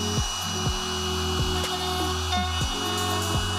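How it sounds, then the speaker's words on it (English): A small trim router whines steadily while cutting a hinge recess in a wooden door, its pitch dipping briefly every half second or so as the bit bites in. "It just makes a job like this, chopping out a hinge, so much easier"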